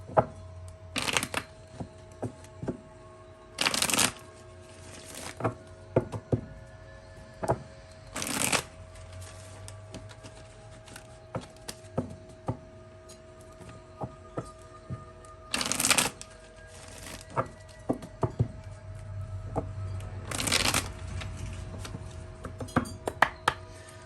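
Tarot cards are riffled and shuffled in repeated crisp bursts, close and clear, with softer taps and slides as cards are laid out between shuffles over a faint steady background hum.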